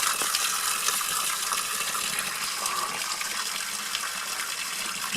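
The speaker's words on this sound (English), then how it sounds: "then you've got the water fountain where you get your water" Steady rushing water pouring from an outdoor water fountain near a bothy in wintry Scottish hills. The flow is continuous, close and fairly loud, with no voices over it.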